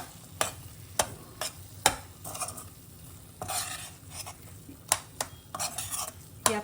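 Cashews, almonds and raisins stirred into amaranth (rajgira) sheera in a pan, with repeated sharp spoon clanks against metal and gentle scraping and faint sizzle between them, close and unaccompanied by talk.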